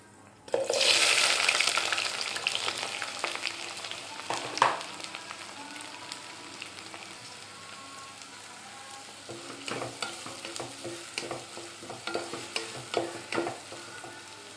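Sliced onions and green chillies fry toward brown in oil; a loud burst of sizzling opens as they hit the pan, settling into a steady crackle with repeated scraping stirs.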